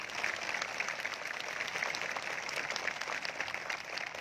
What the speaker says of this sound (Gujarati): બંનેને જોરદાર તાળીઓથી વધાવજો,